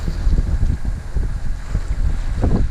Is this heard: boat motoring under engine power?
yes